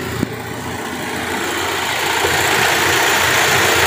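Opel Blazer police vehicle engine idling, a steady close rumble that grows slightly louder over a few seconds after a brief click at the start, with no talking.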